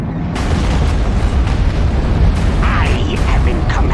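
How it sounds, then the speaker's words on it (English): Heavy bombardment from an Imperial bombing run in Star Wars: Empire at War, a dense, continuous rumble of booming explosions and bursts that stays loud and unbroken throughout. "Commencing bombing run. Bombardment incoming."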